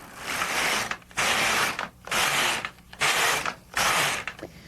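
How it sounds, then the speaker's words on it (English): An LK150 knitting machine carriage is pushed across the needle bed while knitting with two yarns, giving five rhythmic passes of loud mechanical ratcheting and clattering, each separated by brief pauses. "And as I knit"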